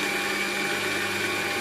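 Stand mixer kneading brioche dough, a steady motor whir with a constant tonal hum and slight rhythmic churning, running evenly at close range without pauses.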